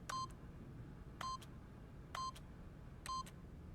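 Four evenly spaced electronic keypad tones mark PIN entry on a keypad behind a boss's desk in The Stanley Parable video game, each a short clean beep over a faint background hum.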